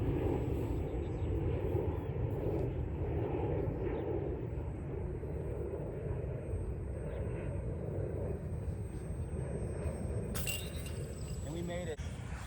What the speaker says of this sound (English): He just flew the plane right over